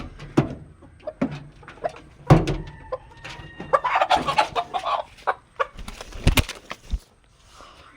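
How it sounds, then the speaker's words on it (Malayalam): Chickens and roosters at a poultry yard cluck in scattered short bursts, with a few louder calls and squawks rising and falling against quiet farmyard background. "എന്താ കോഴി അടിപൊളി കിടിലൻ കോഴിയാണ്."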